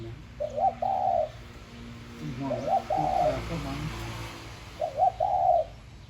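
A decoy dove coos in three short, clear phrases spaced a couple of seconds apart, fairly close, over a low outdoor background.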